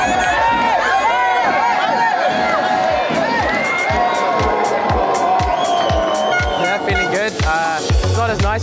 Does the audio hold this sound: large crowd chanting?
yes